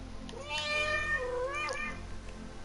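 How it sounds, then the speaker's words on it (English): A cat meows in the video game Echoes of the Fey, one drawn-out, rising and falling mew that is clear and close over a low background hum. "Is this your cat?"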